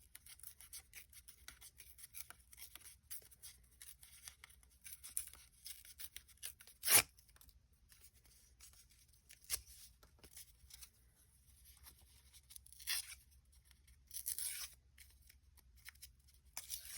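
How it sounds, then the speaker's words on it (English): Paper is torn by hand for a collage, quiet intermittent rips and rustles with one sharper tearing burst and a few more near the end, in a quiet room. "And I need to tear the other side."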